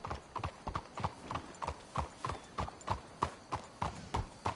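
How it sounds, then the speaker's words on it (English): Horses' hooves clip-clop in a steady, even rhythm in Red Dead Redemption 2, several animals trotting together close by with no talk over them. "Let's hitch the horses up ahead"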